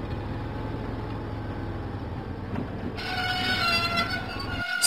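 The Diesel engine rolls along the track in a Thomas & Friends video game with a steady, moderately loud rumble and hum. A brighter, tonal game sound comes in near the end.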